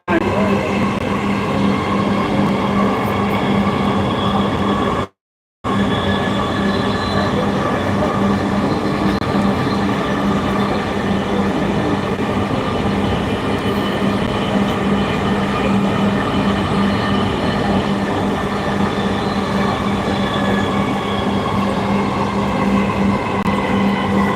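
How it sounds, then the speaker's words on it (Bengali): A Dhaka metro train runs steadily, a loud continuous rumble with a droning hum and rail noise that holds for the whole stretch, broken only by a brief dropout near the middle. "this train is bound for Uttara north next station is Karwan বাজার"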